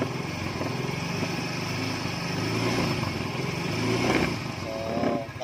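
A fuel-injected motorcycle engine fitted with a dual-battery setup, running steadily at close range, with a brief rise in revs near the end and no talking.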